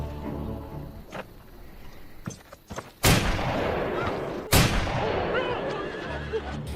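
Gunfire in a film scene: two sharp, loud shots crack out at about three and four and a half seconds. Quieter scene sounds and faint voices come before them, and rumbling noise lingers afterward.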